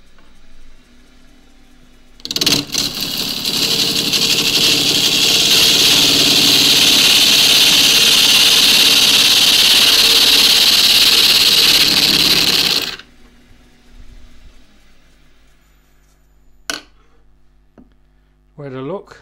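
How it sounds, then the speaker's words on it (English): A wood lathe turns an eggcup while a half-inch spindle gouge trues the side, a loud, steady whirring cut lasting about ten seconds before stopping abruptly, followed by quieter motor hum and a brief voice. "I'm going to use a 1/2-inch spindle gouge just to true the side up."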